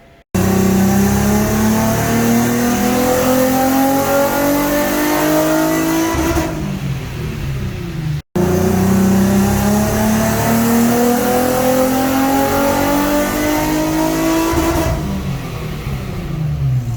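A Nissan R35 GT-R engine on a dyno revs hard twice in a row, each pull a loud, sustained climb in pitch that cuts off abruptly after about six seconds. No talking is heard.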